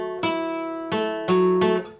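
A guitar chord from a lesson on playing a song, strummed four times at uneven intervals. Each strum rings out and sustains clearly, close and alone, with no talking.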